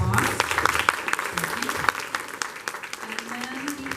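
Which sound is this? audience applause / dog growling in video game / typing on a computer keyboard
audience applause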